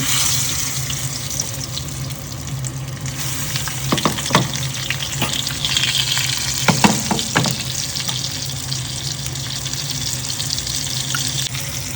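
Marinated fish pieces frying on a hot tawa, producing a continuous close, loud sizzle with a few sharper crackling bursts and clatters as pieces settle; no talking.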